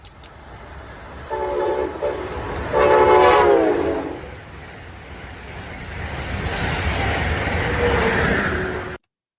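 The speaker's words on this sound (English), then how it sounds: "so that train was going at about, around like 120 miles an hour" An electric passenger train in New Jersey speeds past at around 120 mph, sounding its horn in two blasts before the loud rushing roar of the cars sweeps by and lingers.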